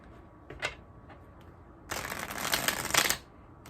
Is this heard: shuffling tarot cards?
yes